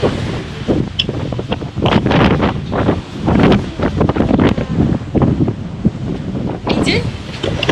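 Strong wind on a beach buffeting the microphone in loud irregular gusts, with surf faintly underneath and a voice talking intermittently.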